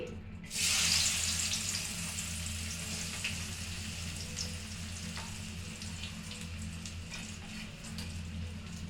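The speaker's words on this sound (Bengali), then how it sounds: "এই মাছের একই তেলে পেঁয়াজগুলো দিয়ে দিচ্ছি" Onions frying in the same oil left over from frying koi fish, a steady broadband sizzle that jumps up sharply near the start and then holds even and fairly loud to the end, close up, with no talking.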